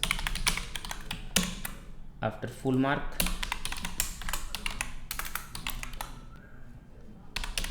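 Rapid clicking keystrokes come from a computer keyboard while entering exam schedule data in a web application, tapping in uneven bursts under a person's quiet speech.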